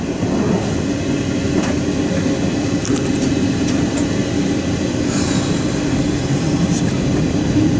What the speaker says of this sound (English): Ladies and gentlemen, this train's now ready to part.